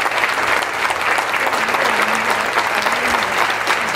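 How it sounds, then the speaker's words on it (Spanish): A crowd at a book fair applauds heartily, a thick, continuous roar of many hands clapping, loud and even throughout, with a faint voice briefly audible underneath. "fuertísimo aplauso también"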